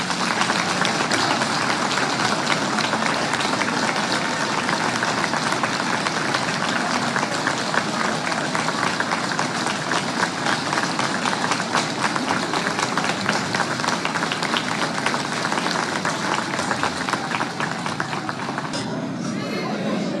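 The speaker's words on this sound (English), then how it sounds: "So a minute of applause for them." Sustained crowd applause at an FPR Inkotanyi political bureau meeting in honour of fighting forces, a dense, loud, continuous wash of clapping that tapers slightly near the end.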